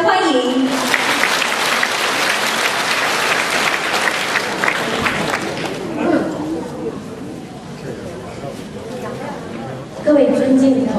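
Audience at a Buddhist gathering in Penang, Malaysia, breaking into loud sustained applause that fades after several seconds, with a voice starting at the end.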